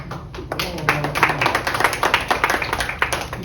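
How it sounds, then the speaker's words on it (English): Steady clapping from a crowd at a neighborhood association meeting, a scattered patter of many hands continuing throughout, with some voices mixed in. "we got an applause"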